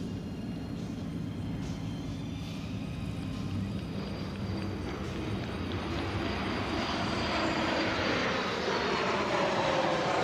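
Steady, loud roar of a KC-135 tanker aircraft's jet engines, a continuous broadband rumble with a faint high whine, holding level throughout.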